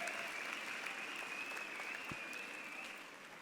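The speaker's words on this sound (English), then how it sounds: "please join me in giving him another round of applause" A graduation ceremony audience gives a sustained round of applause, an even wash of many hands clapping at a distance that continues throughout and fades slightly at the end.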